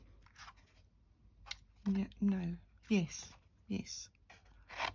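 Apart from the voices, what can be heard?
scissors fussy cutting paper artist trading cards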